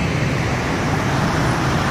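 Dense road traffic rolls along Calle Quinta in Santiago de Cali, a loud, steady broadband roar of passing cars and buses without pause or voices.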